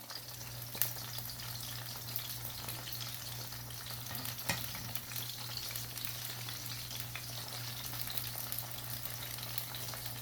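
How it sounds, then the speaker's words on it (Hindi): Chicken pieces sizzling in hot oil in a pan for a restaurant-style chilli garlic chicken, a steady close crackle and hiss with an occasional stir or clink, no talk. "अब इसकी ये फ्राई करके निकाल लूँगी"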